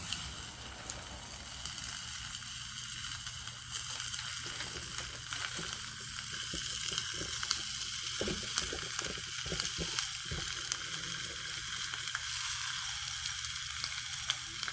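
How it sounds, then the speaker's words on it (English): Ham sizzles in the cups of a Lodge cast-iron biscuit pan on a Camp Chef Explorer stove, a steady close hiss with scattered pops and crackles, and no talking. "Just gonna drop some ham in."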